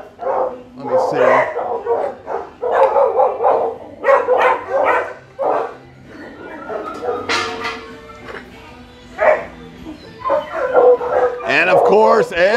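Beagle mix female dog at an animal shelter barking and yipping in short bursts, mixed with close speech and other shelter noise.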